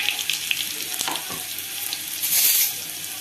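Crushed garlic sizzles and crackles in hot oil for a home cold-relief remedy, a close, steady frying hiss with brief stirring scrapes and a louder surge of spitting near the end.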